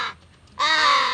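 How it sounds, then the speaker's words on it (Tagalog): A crow gives two harsh caws close by, a short one followed by a longer, louder call. "uwak ng uwak"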